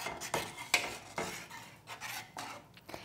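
A spoon stirring salt into chicken soup, with a quick series of metallic clinks and scrapes against the pot, close and without voices.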